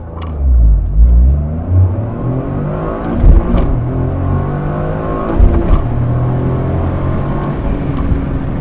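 A Toyota GR Corolla engine revs up through several gear changes during a 0-60 acceleration run, pitch climbing and dropping with each shift, loud and close.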